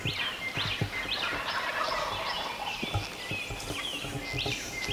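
Wild turkeys gobble outdoors on a cold early morning, several rattling calls repeating one after another at moderate distance, with other faint bird chirps in the background.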